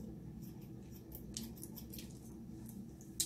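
Scissors trimming curls on a wig being cut into a bob, soft close snips over a faint steady background hum, ending with one sharper cut.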